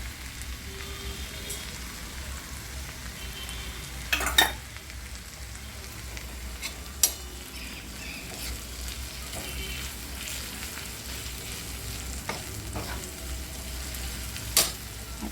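Hot oil sizzles softly in a pan while bitter gourd is cooked, a faint, even crackle broken by a few sharp utensil clicks.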